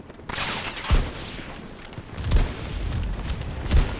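Gunfire in the video game Battlefield 2042, with several heavy shots and bursts booming over continuous rumbling battle noise at close range.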